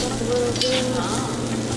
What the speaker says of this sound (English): So you have to preheat the contents of the crepe first.